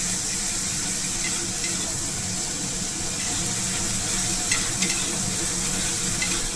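Boiled taro and small mourala fish going into frying masala for a Bengali fish curry, giving a dense, even sizzle with faint stirring scrapes close by, and no speech.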